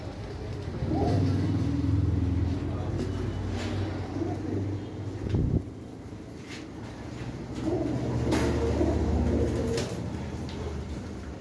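Pigeons cooing at a bird shop, low soft coos repeating in two long bursts with a brief clatter between them and traffic noise in the background.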